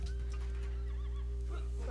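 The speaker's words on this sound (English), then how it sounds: "Shoot those horses." A horse in Civilization V: Brave New World gives a loud, close whinny with a wavering, drawn-out pitch over a steady low hum, with no one talking.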